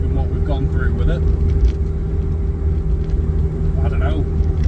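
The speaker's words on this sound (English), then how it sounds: "exhaust sounds good" Car engine running through a homemade exhaust while driving, a steady low rumble with a constant drone, moderately loud and close, with some voices talking over it.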